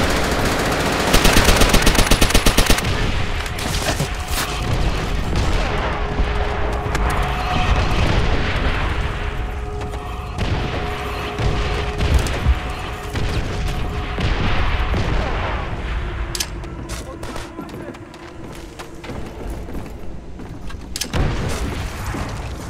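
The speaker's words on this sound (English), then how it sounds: "Artillery!" Call of Duty: World at War online Capture the Flag match, with rapid machine-gun bursts, booming artillery fire and explosions rolling almost continuously at close range, loud and dense, with voices shouting at times.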